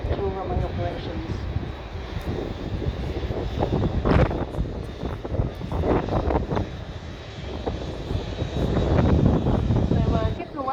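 Emirates Airbus A380-800 taxiing at Manchester Airport, its engines giving a steady broad roar with wind buffeting the microphone throughout, while people talk over it.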